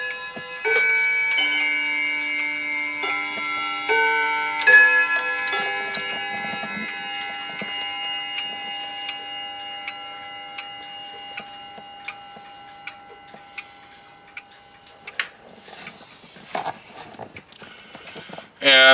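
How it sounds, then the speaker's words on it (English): Antique clock from a large collection striking the hour, a series of ringing chime tones that sustain and slowly decay, then a quiet stretch with ticking and small handling knocks. "And that clock did not do the whole chime."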